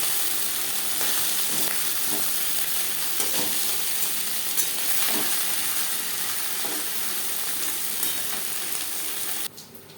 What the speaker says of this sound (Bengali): একটা সাইড ভাজা হয়ে গেলে অপর সাইডটা উল্টে দেবো।